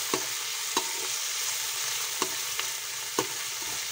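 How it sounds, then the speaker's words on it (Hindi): Chopped tomatoes stirred into fried onions and green chillies in a hot pan: a steady soft sizzle with a few sharp spatula taps against the metal, close by, no talking. "अब डाल देते हैं इसमें टमाटर। टमाटर को अच्छे से मिक्स कर लेंगे प्याज मिर्ची में।"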